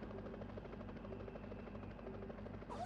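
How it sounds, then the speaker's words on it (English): Helicopter rotor noise from a basic PC video game running on a K6-2 with a Voodoo 2 card, a steady faint chopping drone with an even rhythm, ending in a brief rising click. "Helicopter sound is done now."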